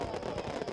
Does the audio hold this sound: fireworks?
yes